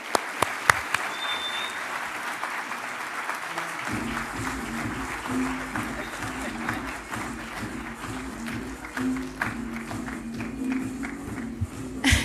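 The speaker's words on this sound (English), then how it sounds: "give me a big round of applause for our university president, Dr. Vanya Quinones." A large crowd at a university open house applauds steadily, dense clapping that swells after a brief start and carries on without pause, with some cheering mixed in.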